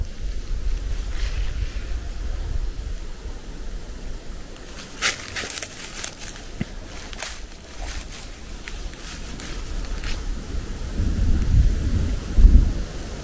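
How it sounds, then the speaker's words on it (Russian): Low, rolling thunder rumbles from a distance outdoors near a pond in the countryside, a long continuous roll with several sharper cracks in the middle and a heavier swell near the end, mixed with wind noise. "Похоже на гром."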